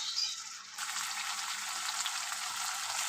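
Masala paste for boal fish curry fries in hot oil, making a steady, even sizzling hiss that carries on without a break. No voices are heard.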